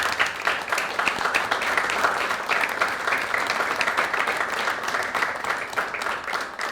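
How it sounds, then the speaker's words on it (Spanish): A room full of people applauding at an educational workshop, dense and steady clapping that stays strong and even for several seconds without letting up. "nos vamos a dar un fuerte aplauso"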